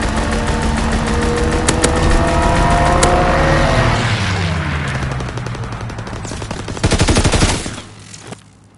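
Machine-gun fire from a strafing run in a PS4 war video game, a loud, dense roar with sweeping aircraft engine drone that fades midway, then a closing burst of rapid shots.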